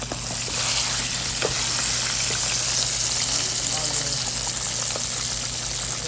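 Pork chops fry in a hot pan with a steady, dense sizzle and crackle that holds loud and close from start to finish, with no voices over it.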